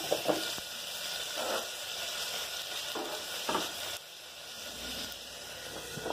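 Small onions, tomato and curry leaves sauté in hot oil, a steady close sizzle with occasional stirring scrapes and clicks.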